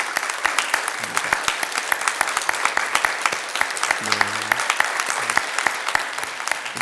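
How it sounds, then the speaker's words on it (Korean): A church congregation claps steadily and continuously during an Easter Sunday service, many hands applauding together in a room, with some brief voices murmuring underneath. "우리 박수로 축복해 주시겠습니다"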